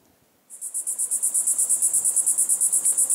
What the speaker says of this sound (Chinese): 以这个蝉叫为例子